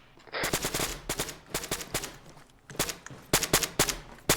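Small-arms fire crackles through an Arma 3 battle near Avdiivka, with repeated sharp automatic bursts and single shots in irregular clusters. The gunfire is loud and close, and nobody speaks.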